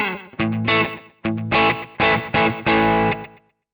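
Electric guitar played through a Valeton GP-5 multi-effects unit on a country preset, several bright picked chords and phrases ringing out in short bursts with brief gaps, close and fairly loud with no talking.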